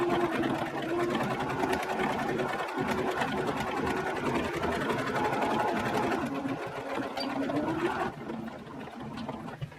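A sewing machine stitches a plain seam in fabric with a steady, loud, continuous whirring drone that eases off near the end, with no voices over it.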